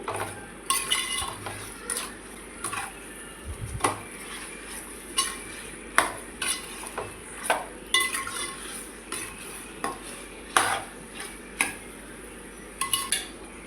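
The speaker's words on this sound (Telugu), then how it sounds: "సాల్ట్ అంతా కలిసేంత వరకు కలపండి" Metal spoon stirring salt into chicken curry in a pot, repeated scraping clinks against the pan in a steady rhythm, close and fairly quiet over a soft background hiss.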